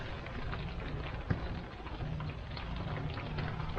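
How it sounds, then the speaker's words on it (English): Rain drumming on the roof of an RV on a cold, rainy Memorial Day weekend, a steady soft patter heard from inside, faint and even throughout, with one small knock partway through. "Probably can hear that rain on the roof."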